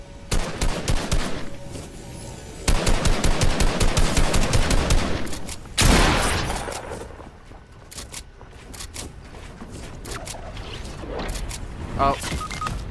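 Loud automatic gunfire in Fortnite comes in long rapid bursts with a brief gap, followed by a heavy impact and then quieter scattered shots and mechanical clatter, with a voice talking partway through.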